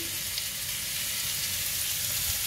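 Kefta meatballs fry in a pan with a steady, close sizzle and crackle, a constant hiss with no talk over it.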